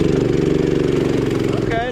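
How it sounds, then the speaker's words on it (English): An Axis M200 minibike with a swapped 212cc engine runs loud and close on a test ride, with a steady, throbbing mid-pitched drone as the throttle is worked. A voice speaks briefly near the end. "And just flipping the throttle, you can see it barely wants to move."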